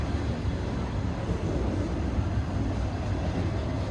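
Norfolk Southern intermodal train rolling across a bridge overhead, a loud, steady low rumble with continuous wheel and car noise and no voices.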